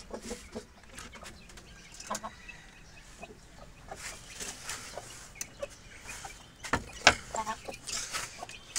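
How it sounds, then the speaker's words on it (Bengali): Aseel chickens in a backyard breeding setup cluck and shuffle close by, scattered short calls and a brief wing flap over faint background noise, with someone talking now and then. "নতুন দুইটা মুরগি।"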